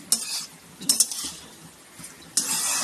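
Leftover rice being fried and stirred in a pan, with scraping spoon strokes over a steady sizzle, sharp bursts of hiss as the rice is turned, loud and close with no talk.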